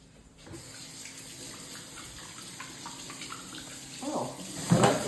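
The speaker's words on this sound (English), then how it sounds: "I like to start a bowl with some soapy water and stick everything in there" Tap water runs steadily into a bowl of soapy water at a kitchen sink, a continuous close splashing hiss with a brief louder gush near the end.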